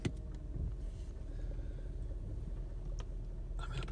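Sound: Mercedes ML500 SUV driving

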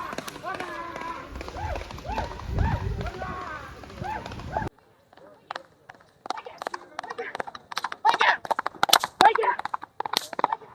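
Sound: racing horse hooves galloping on road

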